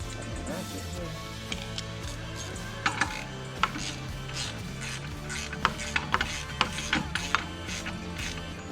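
A socket wrench ratchets on a nut while mounting a spare tire carrier on a camper, giving irregular bursts of small clicks and sharp ticks over a low steady background hum, fairly close.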